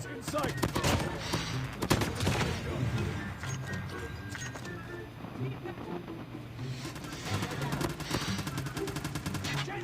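Rapid bursts of gunfire crackle continuously in Call of Duty Mobile, dense and loud, with game effects and faint voices mixed underneath.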